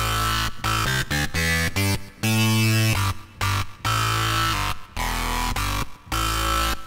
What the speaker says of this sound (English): I'm going to go with a bass preset called Grinder.